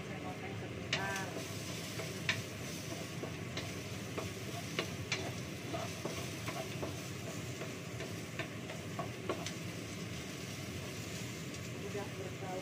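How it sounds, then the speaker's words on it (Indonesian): Crushed garlic and ginger fry in a pan with a steady low sizzle, broken by occasional sharp clinks of stirring. "Sudah saya goreng sebentar."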